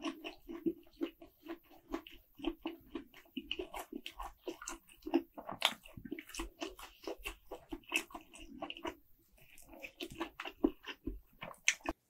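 Crispy fried chicken, Puradak tender-chi kkwobarou coated in sticky sauce, being bitten and chewed up close, with dense repeated crunches and wet mastication sounds in a steady rhythm, no talking.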